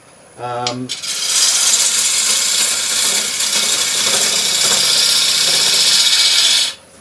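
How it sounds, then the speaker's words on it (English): A wood lathe turns a pestle and mortar, a tool cutting the spinning wood with a sustained bright, rough scraping hiss after a brief tonal blip at the start, steady and close until it stops abruptly. "I think I can probably turn the lathe speed up a little bit now"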